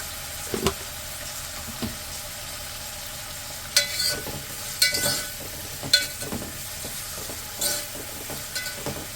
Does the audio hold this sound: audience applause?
no